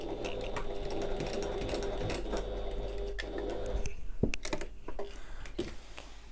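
Sewing machine with a walking foot stitching a bag lining, a close, steady mechanical whir with rapid ticking stitches and a few sharper clicks toward the end, no voices.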